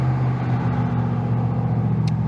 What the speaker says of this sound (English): truck just went by.